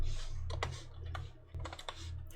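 Rapid clicking keystrokes on a computer keyboard, close and fairly loud, in irregular bursts with brief pauses between them.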